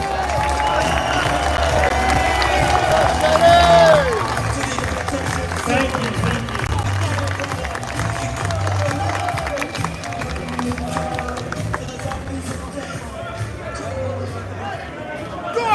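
A large outdoor crowd at a London rally claps and cheers for a speaker, a dense, loud wash of applause and shouting with babble and a voice briefly rising over it, then settling into steady hubbub.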